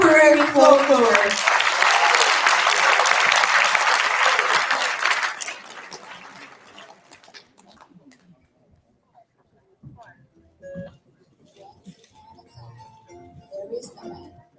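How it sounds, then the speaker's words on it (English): An audience at an Indonesian culture day event in Nijmegen applauds before a contemporary folklore performance, a loud burst of dense clapping that fades after about five seconds into near silence with scattered faint noises. "please, big round of applause for the Indonesian contemporary folklore"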